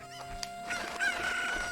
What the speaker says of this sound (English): this chicken here, or Kuko, or whatever you want to call it